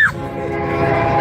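A long freight train roars past up close, loud and steady, its horn blaring at the start and sustained horn-like tones ringing over the rumble throughout.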